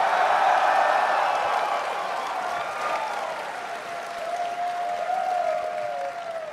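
Audience applause at a live comedy panel, a dense roll of clapping hands from a crowd that is loudest at first and slowly thins, with a few faint voices and cheers mixed in.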